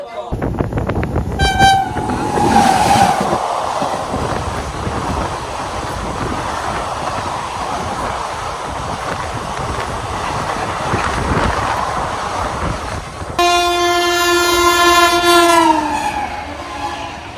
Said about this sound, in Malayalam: ശതാബ്ദി എക്സ്പ്രസ് ആണ് അഹമ്മദാബാദ് പോകുന്നത്.